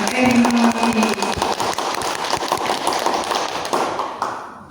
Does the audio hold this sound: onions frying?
no